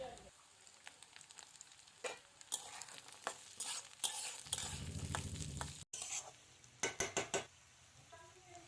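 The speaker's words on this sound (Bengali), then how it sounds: "আধ সেদ্ধ হয়ে গেলে আমি দিয়ে দিচ্ছি গাজর কুচি ও একটু নেড়ে দিয়ে দিচ্ছি বিমস কুচি" Chopped carrots and beans are stirred into half-cooked onions in a frying pan, giving a steady sizzle broken by repeated scraping strokes and clinks of a spatula against the pan, fairly close.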